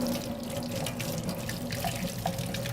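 Water runs from a tap into a lab beaker for a plant cutting, a continuous moderate splashing trickle with a few brighter drips, heard close and alone.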